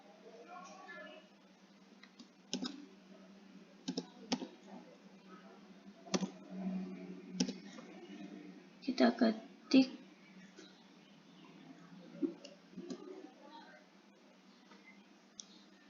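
Computer keyboard typing while building an HTML and CSS form comes through as irregular, fairly quiet key clicks, some in quick clusters, under a person speaking.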